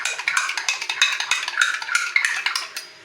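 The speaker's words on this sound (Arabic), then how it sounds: "هنقلب الملح بقى كده اهو بالمية كده اهو" A spoon stirring salt into water in a metal pot clinks and scrapes quickly and steadily, with close, bright repeated taps against the pot.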